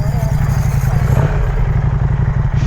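A KTM 790 motorcycle engine running at an offroad adventure park, a close, loud, throbbing low rumble at a steady idle, lasting only a few seconds.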